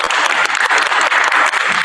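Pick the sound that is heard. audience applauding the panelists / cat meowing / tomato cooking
audience applauding the panelists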